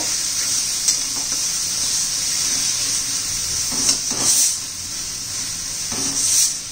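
Raw banana curry with tomato and onion-garlic masala sizzles steadily in a pan, a dense close hiss with a few soft stirring scrapes rising at intervals.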